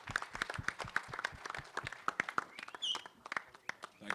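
Audience applause for actor Ajay Devgan at the Action Jackson trailer launch event: dense, steady clapping from a crowd throughout, with scattered sharper claps and a brief whistle-like tone near the middle.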